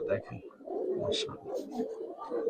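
Giribaz silver pigeons, a Pakistani high-flyer breed kept for sale, cooing in soft, repeated low coos close by, under someone talking throughout.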